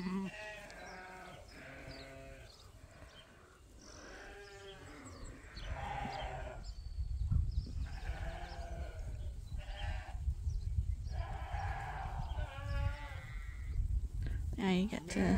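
Sheep and lambs bleat again and again in a pasture, their calls overlapping as the flock moves into a new field, over a low rumble of movement and nearby handling.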